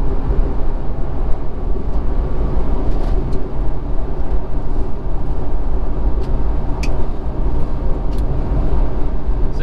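A Toyota FJ Cruiser cruising on the highway, heard from inside as a constant, loud, deep rumble of road and engine noise with no breaks.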